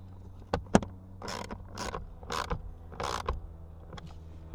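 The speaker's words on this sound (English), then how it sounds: "I'll just switch over and finish this up with a ratchet." A ratchet tightens a blower motor bolt on a 2013–2019 Ford Police Interceptor Utility, giving a few close, separate bursts of clicking, creaking metal with short pauses between them; no speech.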